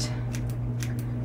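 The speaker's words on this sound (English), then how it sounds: "I take my scissors, and using an upward motion like this, I just cut across" Scissors snipping across straight bangs while trimming hair, a few short crisp cuts at close range over a steady low background hum.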